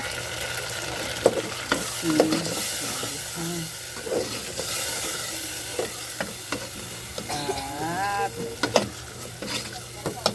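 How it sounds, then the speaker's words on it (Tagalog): Food sautéing in a pan with pepper and salt, sizzling steadily while a utensil stirs and scrapes in irregular bursts, close and fairly loud, with no talking. "Gisa-gisa agad."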